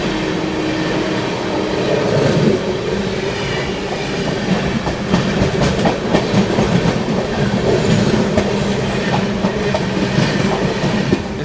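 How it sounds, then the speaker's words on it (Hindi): The Howrah Jodhpur Superfast Express rolls past on a line with maintenance work ahead, giving a loud, sustained rumble with steady clickety-clack of wheels over rail joints and a brief high squeal near the end. "पीछे देखिए आ रही है आप लोगों की हावड़ा जोधपुर सुपरफास्ट एक्सप्रेस"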